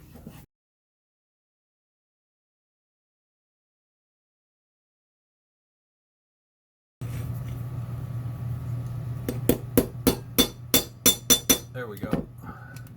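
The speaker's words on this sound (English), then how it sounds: "I'm just going to try, you know, tapping lightly to get these just to bend back in." A small jeweler's hammer lightly taps metal on a vintage vegetable slicer during a refurb, a quick run of about eight close, bright taps over a low background hum after a long silence.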